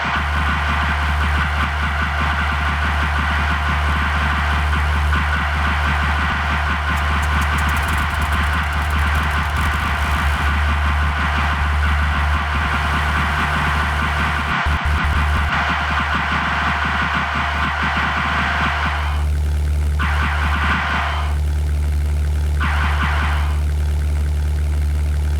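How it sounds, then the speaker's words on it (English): Continuous engine drone from a twin-engine aircraft in the 1998 flight combat game European Air War, steady and loud with a constant hum and faint intermittent clicks, no speech. "So I had to start the second engine."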